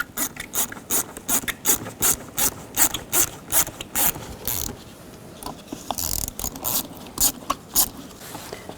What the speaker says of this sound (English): Now loosen up these worm clamps. Use a 7mm socket or a straight blade screwdriver.